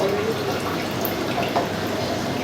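Water drips and trickles steadily from strained food set aside to drain in a home kitchen, a close continuous patter with a few faint clinks.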